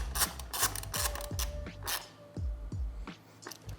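A 5mm Allen key tightens a bolt on a Ski-Doo during a Fox QSE install, giving a few close, irregular metallic clicks and scrapes with short pauses, quiet and without talk.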